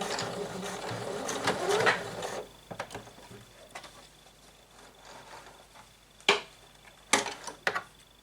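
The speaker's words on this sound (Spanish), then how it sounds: "Y donde terminamos damos otra puntada de anclaje." A sewing machine finishes a seam on a blouse with a few anchoring backstitches, giving short mechanical bursts and sharp clicks separated by quiet gaps, close and moderately loud.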